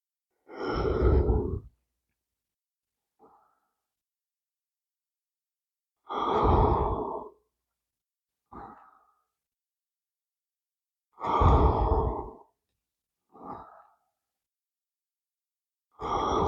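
During chair yoga, a person takes slow, deep breaths: four long, audible sighing exhales spaced evenly apart, each followed by a short, quieter inhale, with silence in between and no talking.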